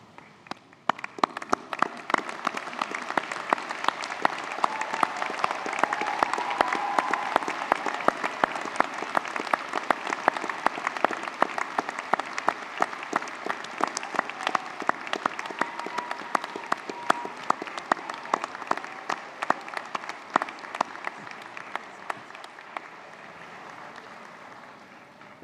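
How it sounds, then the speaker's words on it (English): A large graduation-ceremony crowd gives a sustained round of applause, dense clapping holding steady for about twenty-five seconds with no talk over it. "join us in a huge round of applause"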